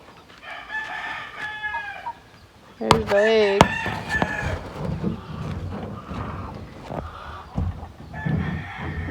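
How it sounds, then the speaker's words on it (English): Chickens in a coop cluck and squawk, and a loud crow breaks out partway through, with people talking close by among the birds. "There's the chicken gang."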